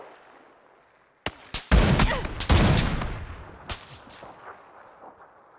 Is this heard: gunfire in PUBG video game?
yes